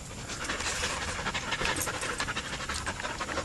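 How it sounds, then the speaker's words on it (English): A dog pants rapidly and steadily in hot, humid weather, a close, breathy rhythmic huffing that continues without pause. "As you can probably hear from the dog panting, it's pretty stinking hot."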